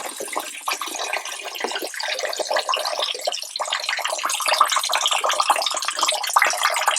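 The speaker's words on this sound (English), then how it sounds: "We've got the water filling in there right now" Water rushing into a washing machine drum during a laundry load, a steady close splashing hiss that continues without pause.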